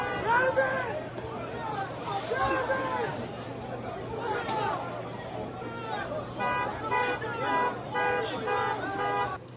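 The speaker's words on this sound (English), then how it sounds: "Look, car alarms going off." Several car alarms wail and chirp along a city street in repeating electronic patterns, loud and overlapping, with vehicle horns and crowd chatter underneath.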